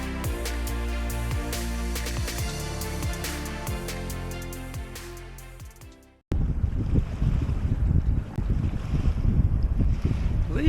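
Hans Christian 38T, a heavy 43,000-pound full-keel blue water cruiser, under way leaving San Diego; a steady tonal drone with rising whines gives way abruptly to loud gusty wind buffeting and rushing water.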